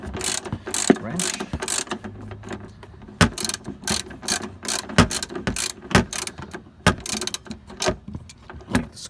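A 15 mm ratcheting wrench loosens a rear shock screw on a Jeep Grand Cherokee WJ, producing close, loud ratchet clicks in quick irregular bursts throughout.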